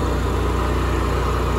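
A Honda EU7000is generator engine running on natural gas through a tri-fuel conversion, humming at a steady idle with an even low throb, close and continuous with no talk.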